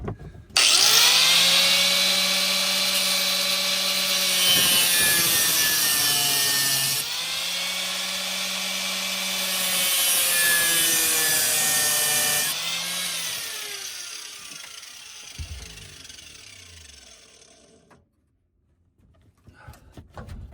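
An angle grinder whines loudly and steadily while cutting off a stripped, stuck screw, its pitch dipping slightly under load in a few places before the motor winds down and falls silent near the end.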